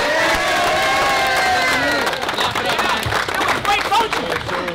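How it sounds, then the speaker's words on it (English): An AAU basketball team claps and cheers loudly after coming back from a halftime deficit, with shouting voices and harmonic whoops layered over dense, continuous crowd noise throughout. "Clap it up, man."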